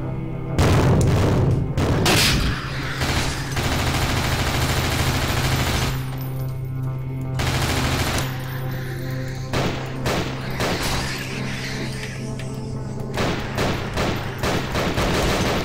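Gunfire in the horror shooter Nightmare House 2: repeated loud shots and bursts crack through a droning, humming game background, arriving in uneven clusters across the stretch.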